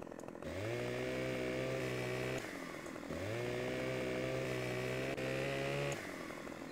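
In Farming Simulator 2015, a chainsaw cuts trees in a forest. The engine revs up sharply twice, holds a loud sustained buzz, then drops back to idle between cuts, with no talk.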